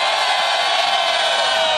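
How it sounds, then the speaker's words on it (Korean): Party members at a political rally cheering together in a loud, sustained roar of shouting voices that fills the space without a break. "여러분 그 응원의 함성 부탁합니다"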